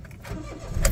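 A Toyota car's engine cranks and fires up during a CVT calibration check, a short rising burst of starter and engine noise building to a louder catch near the end, heard close with no talking.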